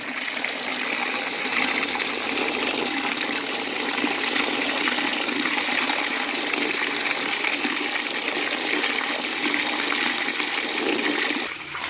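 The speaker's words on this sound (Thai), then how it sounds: "ล้างมือกัน" Water runs steadily from a tap as hands are washed, a continuous broadband gush that stays loud and even for the whole stretch with no voices over it.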